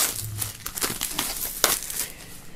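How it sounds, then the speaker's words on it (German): Plastic shrink-wrap film is pulled off a CD box set, giving a dense, close crinkling and crackling with a few sharper tearing bursts, continuous and fairly loud. "Dann werden wir mal das Ganze hier aus der Folie holen."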